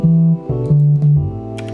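Clean, undistorted bass line from an Afrobeats studio production, a few sustained low notes changing in a steady pattern, loud and alone.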